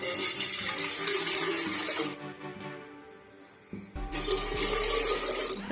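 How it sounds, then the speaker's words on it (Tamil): Water is poured into a cooking pot set on a stove for making sambar, a loud gushing stream that fades out, pauses briefly, then starts again with a deeper, fuller splash. "ரெண்டு சொம்பு தண்ணி ஊற்றிக்குங்க."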